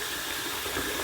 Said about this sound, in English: I'm going to get a little bit of hot water and put it on top of this puck here.